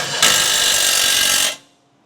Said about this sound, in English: impact's coming in. That's that top bolt, bottom caliper bolt